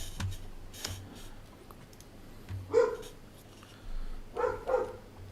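Several dogs at a home with six dogs bark in short, scattered bursts, a few loud yaps rising from a quiet room with faint clicking between them.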